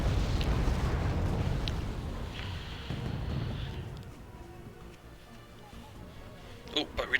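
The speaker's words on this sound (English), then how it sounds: "Oh, but we do have mortars firing in now." Mortar rounds land in the Cold War strategy game Wargame: AirLand Battle, heard as a loud rumbling blast and roll of explosions that fades over several seconds. Voices talk over the blasts, and faint pops follow at the end.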